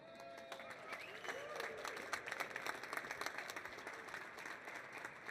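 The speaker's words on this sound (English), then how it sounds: "I'm sure they're going to need a much bigger applause than the ones we did earlier" An audience at a NADA 2026 art fair panel claps to welcome the panelists. The applause is fairly faint and scattered and builds in the middle, with voices talking alongside.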